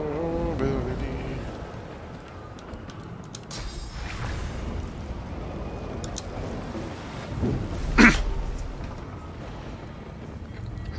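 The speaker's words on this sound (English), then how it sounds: "If it isn't raining enough in here" Steady rain hisses over a low rumble of thunder in Divinity: Original Sin 2, with a sharper crack near the end standing out from the constant downpour.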